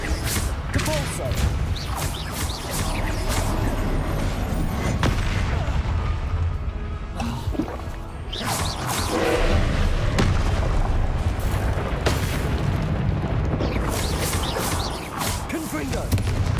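Depulsor spell blasts in Hogwarts Legacy combat: repeated booming impacts and crashing bursts, mixed with other spell effects, land in a dense, continuous battle soundscape for about sixteen seconds.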